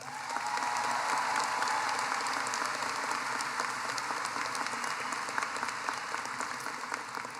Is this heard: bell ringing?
no